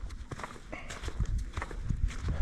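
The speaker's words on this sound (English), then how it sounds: "these horses are wild, and just got to be a bit careful" Hooves of wild horses clop unevenly on a snowy mountain path in the Black Mountains near Hay Bluff, close and irregular, with faint breathing or movement mixed in.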